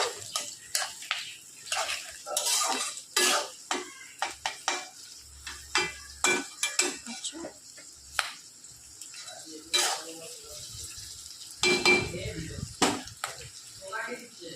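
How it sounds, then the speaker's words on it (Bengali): Capsicum being stir-fried in a pan, with frequent clattering spatula scrapes and knocks against metal over a soft sizzle, plus intermittent speech and a brief burst of louder frying near the end. "ক্যাপসিকামের সাথে এটা অল্প ফ্রাই করে নিব।"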